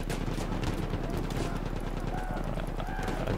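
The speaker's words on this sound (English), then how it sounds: "Who's shooting over there?" Gunfire in the Battlefield 1 multiplayer video game crackles as rapid, distant-sounding shots over a constant battlefield din, while a player talks.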